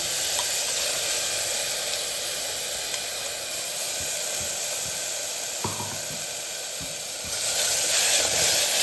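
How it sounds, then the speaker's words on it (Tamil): Tomatoes sauté in a hot pan for a chickpea gravy, giving a steady, close, hissing sizzle with occasional soft stirring knocks; the frying grows a little louder toward the end. "இந்த தக்காளி வதக்கி விட்டுறலாம். பச்சை வாசனை போகிற வரைக்கும் வதக்கி விட்டுருலாம்."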